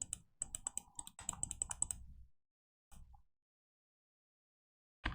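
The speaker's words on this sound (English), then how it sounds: "I pressed a bunch of keys." Computer keyboard keys pressed in a quick flurry of clicks during a video game, followed by a short pause, one more brief burst, then a single late keystroke, all close and fairly quiet.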